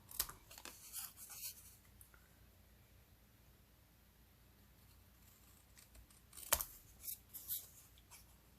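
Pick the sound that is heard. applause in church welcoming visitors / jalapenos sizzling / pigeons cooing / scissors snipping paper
scissors snipping paper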